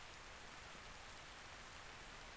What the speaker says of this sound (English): Maybe the rain will be gone too.